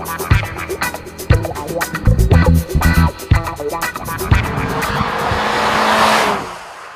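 A 2015 Mazda6 is driven hard around a tight race track, with loud engine revs, repeated bursts of tire squeal and skidding, and then a fading roar as the car pulls away.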